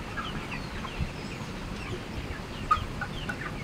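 Chickens on a contract poultry farm, with fans running, cluck faintly and sporadically beneath a steady wash of broad background noise. No one speaks.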